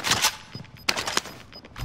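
Rapid video game gunfire crackles in short bursts, moderately loud but slightly distant, in a tactical shooter match inside a building with several floors.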